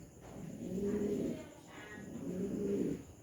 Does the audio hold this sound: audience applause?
no